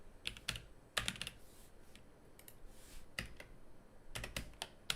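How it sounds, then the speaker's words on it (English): Clattering keystrokes on a computer keyboard come in quick bursts separated by short pauses, fairly close and crisp against a quiet background. "Sorry if my typing's loud."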